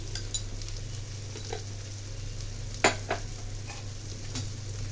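Bodakakarakaya (spiny gourd) curry stirred in a pan with roasted peanut or sesame powder, a soft sizzle throughout with a few scraping clinks of the spoon against the pan, one sharper knock near the middle.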